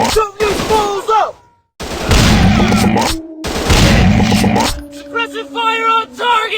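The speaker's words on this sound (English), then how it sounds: "I'm shooting these fools up!" Loud shotgun blasts and bursts of gunfire in a first-person commando shooter game, arriving in heavy clusters separated by brief gaps, with tonal game effects ringing between them.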